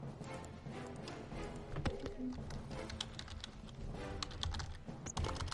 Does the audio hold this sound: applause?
no